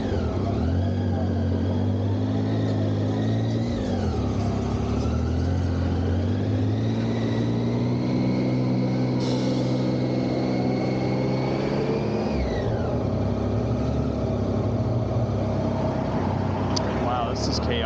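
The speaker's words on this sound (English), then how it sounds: "this guy in the tuk-tuk's gonna take us right up to the frontera" A tuk-tuk drones along on the road toward the El Salvador border, its small engine humming steadily close by while the pitch rises and falls with shifting speed, and a voice talks over it.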